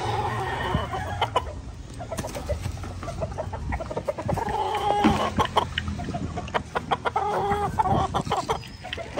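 Gamefowl stag of lemon bloodline clucking on a farm, with repeated short clucks and occasional crowing from nearby birds over steady barnyard noise, no talking.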